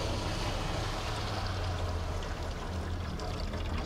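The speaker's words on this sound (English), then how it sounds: "that water just sizzled right up in that pan" Hot water poured into a very hot pan in a smoker beside the firebox sizzles in a steady loud rushing hiss that holds throughout without pause.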